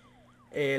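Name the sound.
ambulance siren in the video game Broke Protocol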